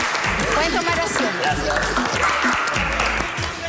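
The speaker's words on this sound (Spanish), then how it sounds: "Oriana, Miguel, les damos un aplauso" A studio audience on a televised reality show set claps steadily in a lively burst of applause, the clatter of hands running throughout while a voice talks over it.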